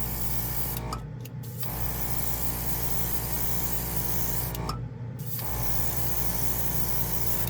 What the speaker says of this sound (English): We're going to try it with another airbrush, so we're going to see how it performs with one of my regular from my stables here